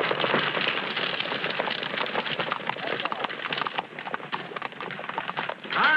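A horse's hooves clatter in a quick, steady clip-clop on a trail in an old 1939 Western, fairly close and moderately loud, with rain-like crackle and rough background noise.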